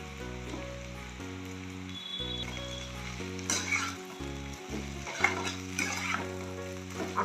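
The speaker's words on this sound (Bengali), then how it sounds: "এবার এর মধ্যে পাউরুটিগুলো আস্তে আস্তে আমি ছেড়ে দেবো" Soaked, softened bread pieces dropped into hot ghee and frying, a loud steady sizzle with crackling bursts and stirring scrapes growing busier midway, close up and alone apart from a background musical tone.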